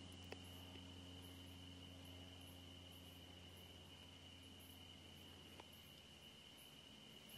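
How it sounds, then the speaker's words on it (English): Crickets and other insects in orchard trees chirp in a steady, continuous high drone outdoors, fairly faint but unbroken throughout, with no voices. "We have the crickets outside, the bugs in the trees."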